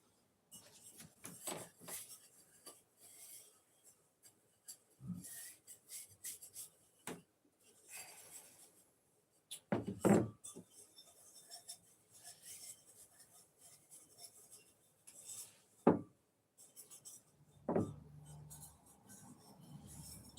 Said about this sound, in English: There's a couple here that have little blemishes on the rim that I want to sand out, like wet sand them.